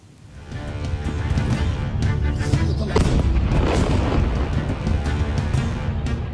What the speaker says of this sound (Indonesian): Ledakan besar terjadi usai serangan udara dijatuhkan di permukiman warga.